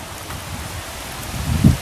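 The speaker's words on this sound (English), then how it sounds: "It's raining, it's not heavy downpours, but it's coming down pretty good." Rain falls steadily during Hurricane Fiona in Nova Scotia, a soft continuous patter with a brief louder gust or thump near the end.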